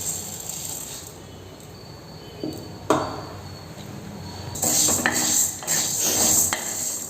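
Urad dal dry-roasting in a kadai while being stirred, the lentils giving dry rattling scrapes and clatters from the ladle, intermittent and close with a few sharper knocks.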